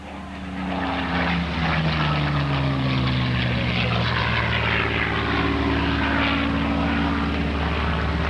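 Cliff Robertson's Spitfire with its Merlin piston engine flies past at the Chatham Ontario Kinsmen Airshow, 1993. A loud, steady propeller drone fills the whole clip, with a smooth falling pitch as the aircraft sweeps overhead.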